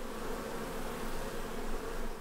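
Honeybees buzz inside a hive, a steady close-up drone holding evenly throughout with no voices.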